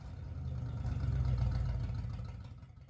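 A Pontiac Firebird Trans Am with its exhaust not hooked up, its engine running with a low, rough rumble that swells and then fades over a few seconds, faint and without talk.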